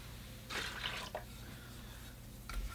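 Watercolor rinse water is changed, quiet splashing and pouring bursts with a few drips, fairly close and soft with no talk.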